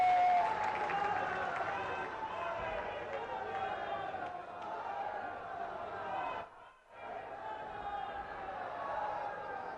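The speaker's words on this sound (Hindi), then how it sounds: "सभी लोग खड़े होकर जोरदार तालियों से उनका स्वागत करें" A large crowd stands and applauds to welcome Prime Minister Modi, a steady roar of clapping and voices filling the hall throughout, with a brief dip near the end before it swells again.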